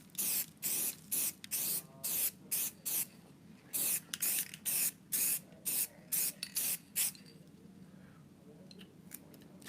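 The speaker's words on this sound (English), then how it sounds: "Light this with a coat of paint while we're at it." Around fifteen short, evenly spaced hisses of spray paint coat an object, each close and crisp, before the spraying stops and the room goes quiet.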